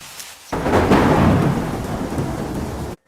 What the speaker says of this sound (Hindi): तभी बारिश शुरू हो गई